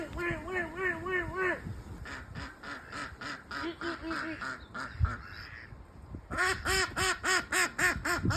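A family of wild ducks on a river quacks in repeated rhythmic bursts, several birds calling together at close range, fairly loud with brief pauses and a gust of splashing or wing noise partway through.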